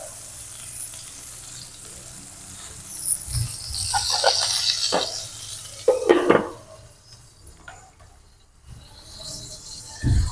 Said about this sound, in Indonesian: Masak protein dulu guys, buat makanan otot.